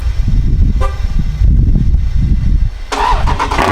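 Dodge Scat Pack with catless mid pipes cold-starting after sitting for weeks: a quick starter whine, then a very loud, close, rough exhaust bark that settles into a heavy rumbling idle, no talking.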